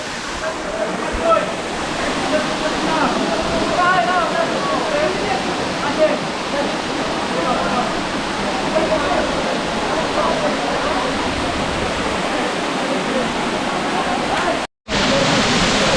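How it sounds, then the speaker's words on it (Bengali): A steady, loud rush of water falling at a waterfall in Rangamati, Bangladesh, fills the whole stretch, broadband and unbroken apart from a brief dropout near the end. "রাঙামাটির এই ঝর্ণাটা আসলেই অসাধারণ সুন্দর"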